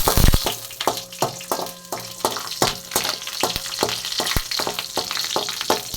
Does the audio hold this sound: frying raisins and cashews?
yes